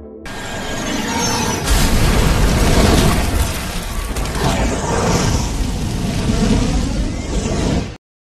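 A grenade blast in a film about war against mutants, a loud broad roar of explosion and debris that swells and rumbles for several seconds before cutting off abruptly.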